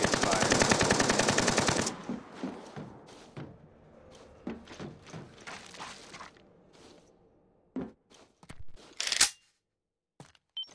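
Video game gunfire: a sustained loud automatic burst for the first two seconds, then scattered shots and clanks trailing off with sharp cracks near the end.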